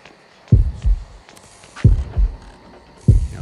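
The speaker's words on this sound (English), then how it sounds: "That heartbeat means he's coming." Heartbeat warning signalling the killer's approach in the Horrorfield horror video game: three heavy double-thump beats, deep and loud, evenly spaced about every 1.3 seconds over a faint background hum.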